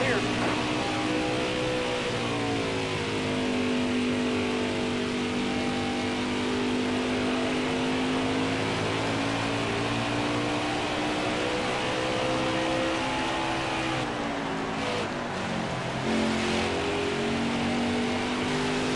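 Craftsman Truck Series race truck at Richmond in a racing game, held at full throttle: a steady, loud engine drone with its pitch rising and dipping slightly, then shifting near the end.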